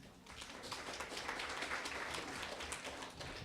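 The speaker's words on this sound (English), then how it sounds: "Let's just clap for everybody." Audience clapping at a spring sports banquet for baseball, softball and golf, a faint, fairly distant patter of many hands that holds steady across the moment.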